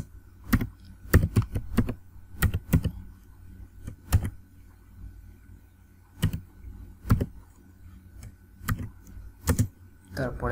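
Keystrokes on a computer keyboard while someone types a name into an HTML page, coming in quick clustered bursts with pauses between, fairly close, over a faint steady hum and brief low voice sounds.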